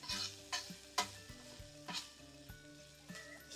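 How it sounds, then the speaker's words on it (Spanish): Chopped onion stirred in a pan over a wood fire, a steady close sizzle broken by scraping strokes roughly every half second, with soft background music running underneath. "Y la cebollita hay que conservarla aquí mismo, que al cabo esa no le pasa nada, nada más hay que estarla meneando constantemente."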